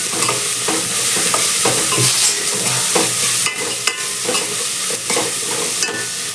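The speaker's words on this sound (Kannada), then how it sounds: "ನಾನೀಗ ಇದಕ್ಕೆ ಪೇಸ್ಟನ್ನೇ ಹಾಕೋತಾ ಇದ್ದೀನಿ. ಇದೊಂದು ಸ್ವಲ್ಪ ರಾ ಸ್ಮೆಲ್ ಎಲ್ಲ ಹೋಗೋದು ಚೆನ್ನಾಗಿ ಫ್ರೈ ಮಾಡ್ಕೋಬೇಕು" Ginger garlic paste frying in a pan, a loud close sizzle with repeated scraping stirs of a spoon against the pan, no speech.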